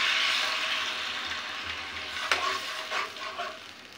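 Onion paste going into hot oil with whole spices for a Bangladeshi chicken curry: a steady close sizzle with stirring scrapes and a sharper hiss burst partway through, no voices.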